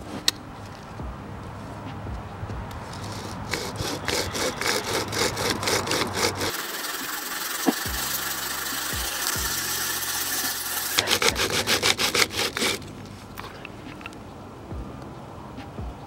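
A bow drill spins a spindle against a wooden board to raise an ember, giving a steady rasping, sawing friction sound with rhythmic back-and-forth strokes, close and fairly loud, and a short pause partway through.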